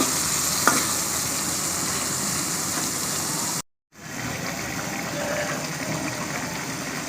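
Meni fish sizzling as it is sautéed and stirred in a hot pan, a steady close frying hiss that cuts out briefly midway and then resumes, with no talking.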